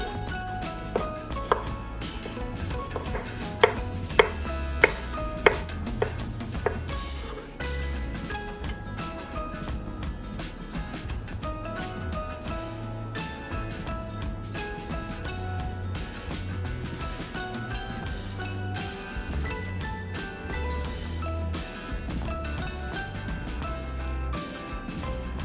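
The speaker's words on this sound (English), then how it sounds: "Finely chop the garlic, onion, tomatoes, fresh basil" A knife chops garlic, onion, tomatoes and fresh basil on a cutting board in quick, steady taps that run on continuously, close and crisp over a soft musical bed.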